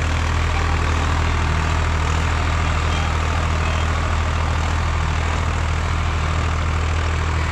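The diesel engine of a 2023 Swaraj 855 FE tractor runs at a steady idle, a loud, continuous low rumble with no change in pace and no voices.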